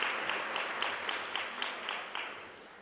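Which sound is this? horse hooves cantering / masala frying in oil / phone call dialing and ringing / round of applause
round of applause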